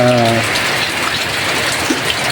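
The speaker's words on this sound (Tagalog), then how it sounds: "malakas pa rin yung ulan" Heavy rain pours down outdoors as a dense, steady hiss that fills the whole stretch, loud and close with no other clear sounds above it.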